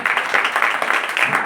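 Church congregation clapping at a Hindi-language Christian preaching service, a steady dense patter of many hands, loud and continuous over the whole moment, with faint voices mixed in.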